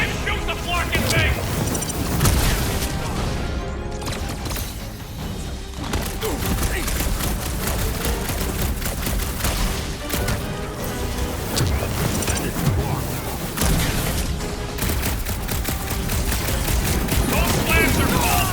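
Dense, sustained gunfire and booming impacts from Marvel's Guardians of the Galaxy keep going nearly nonstop under a busy battle mix and voices talking.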